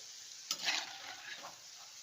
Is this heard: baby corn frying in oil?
yes